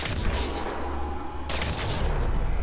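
Gunfire in the stealth action game Hitman Absolution: a dense burst of loud shots over a steady low rumble, with a sharp second blast about midway through.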